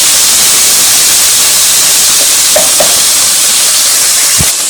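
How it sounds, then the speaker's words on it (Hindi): Potato bhujia for aloo bhujia salan fries in a pan with a loud, steady sizzle and hiss, close and continuous, with a few faint stirring clinks and a brief knock near the end. "इसको अच्छी तरह फ्राई करेंगे।"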